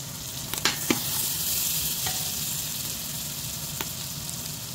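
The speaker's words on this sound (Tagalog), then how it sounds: "Meron nga pala akong hinahalo." Chicken soup simmering in a pot, a soft continuous sizzle and bubbling with a few light clinks of a spoon stirring, steady and close, no talking.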